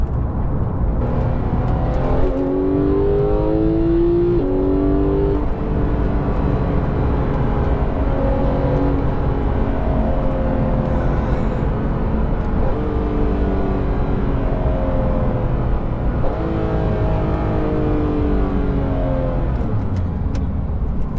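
A Porsche 911 GT3 of the 991.2 generation accelerates hard, its engine rising through the revs in repeated climbing sweeps with brief drops at gear changes, loud and raspy inside the cabin, no talk over it.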